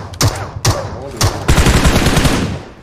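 Gunfire in the mobile battle-royale game PUBG Mobile: a few sharp separate shots, then a rapid automatic burst, loud and close, with no talk over it.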